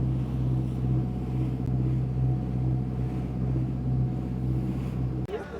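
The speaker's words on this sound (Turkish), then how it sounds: "Çok güzel bir motor yat." Motor yacht engine from a Turkish-built Luce Yacht cruising near Burgazada, a steady low droning hum with wind buffeting the microphone throughout, cutting off abruptly near the end.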